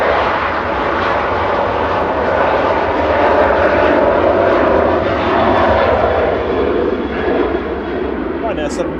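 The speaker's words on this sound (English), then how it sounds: "Ryanair 7542 off to Barcelona there. That's the EFX departing a 14-year-old Boeing 737-800" A 14-year-old Ryanair Boeing 737-800 departs Manchester Airport bound for Barcelona, its jet engines a loud, continuous roar that holds steady across the whole stretch, with people talking faintly beneath it.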